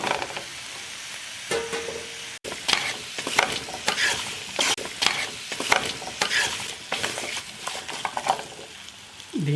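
Pumpkin pieces stirred into frying onions and chillies in a pan, with steady sizzling under rhythmic scraping and clattering strokes of a spatula, close and fairly loud, and no voices.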